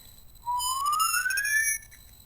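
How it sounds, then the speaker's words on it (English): A single whistled tone glides steadily upward for just over a second, its pitch-shifted copies audible above it after multirate downsampling, clear and alone against a faint background. "So I whistle up, this whistle goes down."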